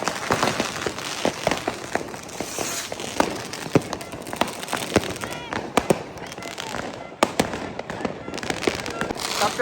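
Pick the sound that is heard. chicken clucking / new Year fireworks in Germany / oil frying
new Year fireworks in Germany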